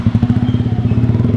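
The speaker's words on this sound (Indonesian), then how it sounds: "Katanya cempreng banget knalpot lu, gaspolnya habis ya" A motorcycle with a tinny, rattly exhaust and engine trouble revs steadily nearby, its fast chugging pulses loud and even throughout.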